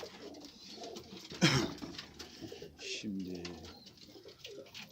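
Domestic pigeons coo repeatedly in a loft, a soft throaty murmur running steadily throughout, with one louder flutter-like burst near the start and people talking faintly in the background.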